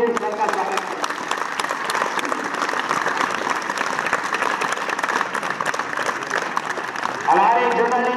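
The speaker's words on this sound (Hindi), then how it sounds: "जोरदार ताली से सर का स्वागत।" Sustained, loud applause from an audience welcoming the chief guest at a school's annual sports day program, dense clapping running steadily throughout with no break.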